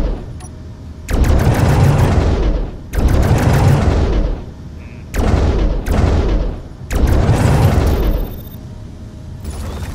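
Ship blasters in the game Space Engineers fire in four loud, dense bursts of rapid shots, each a few seconds long with short pauses between, and no talking over them.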